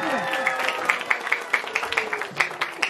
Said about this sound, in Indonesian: kita berikan tepuk tangan yang meriah untuk regu B